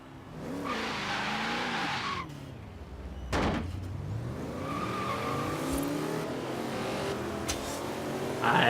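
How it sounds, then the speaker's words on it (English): A car skids and spins out during a race in Forza Horizon 3, with long wavering tire squeals over a revving engine, loud and close, and a sharp knock partway through. "I got a little carried away, spun myself out, but I was able to slow down the other opponents"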